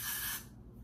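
Got2b hair spray hisses onto a lace wig in one short, close, steady burst that cuts off abruptly.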